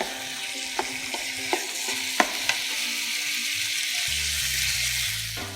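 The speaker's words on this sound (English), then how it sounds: "So we're just sealing the meat, so it doesn't have to be cooked all the way through." Chunks of beef for a French beef stew sear in a hot pan, a steady close sizzle with several small crackling pops, fading into a low hum near the end.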